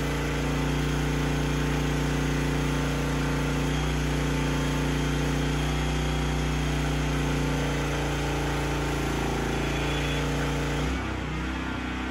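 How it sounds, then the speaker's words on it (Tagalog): Philking PK200a generator engine laboring under load while welding at 200 amps, a loud, steady, close drone with strong low hum that holds constant before a slight shift near the end. "Pakinggan ninyo kung gaano lumaban yung makina at kung paano mag-perform yung 200 amperes."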